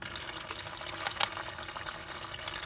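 Engine coolant pours from a radiator drain plug into a drain pan, a steady close splashing trickle with no break.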